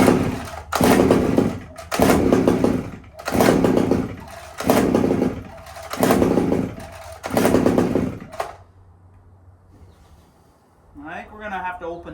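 An old Pioneer P28 chainsaw is pulled over repeatedly, about seven loud rhythmic bursts of sputtering engine noise that fail to catch, then near silence and a faint rattle at the end.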